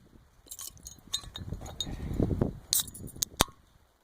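Red ale from Silver City Brewery opened on a rainforest hike, with a quick metallic clink and crack of the can or bottle followed by fizzing hiss, then sharp glassy clinks near the end, all close up.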